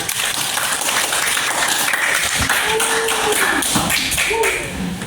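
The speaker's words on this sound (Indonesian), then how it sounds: "kasih aplaus" Students in a classroom give a round of applause for a classmate, a dense patter of claps running steadily throughout, with a few voices rising over it.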